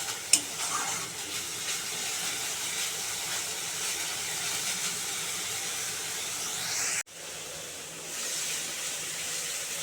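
Spice masala frying in a pan as it is stirred and sautéed, a steady close sizzle with soft scraping and one sharp clink early on, cutting out briefly before the hiss returns.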